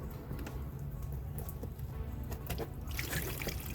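Coolant from a 2010-2017 BMW 535i reservoir pours and trickles steadily into a catch bucket, with a wet splashing that grows a little louder toward the end and no voices.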